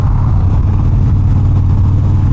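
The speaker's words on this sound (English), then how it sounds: "A lot of traffic on the interstate this morning," Interstate traffic on a mountain road, a loud continuous rumble of passing cars and engines close by.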